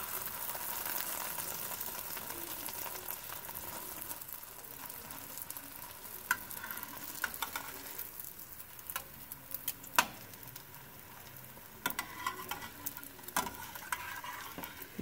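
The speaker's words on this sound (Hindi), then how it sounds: "इसी तरह हम सारे पीस अपने फ्राई कर लेंगे।" Bread pieces for shahi tukray fry over a very low flame in a pan, giving a steady soft sizzle throughout, broken by scattered sharp clicks and taps of a utensil against the pan, with no one speaking.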